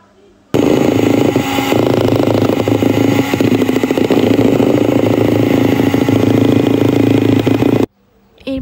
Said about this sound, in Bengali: আমি সামান্য পরিমাণে ইমানশন নিয়ে এটাকে আবার একটু বিট করে নিব